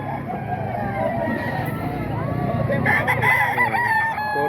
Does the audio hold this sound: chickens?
yes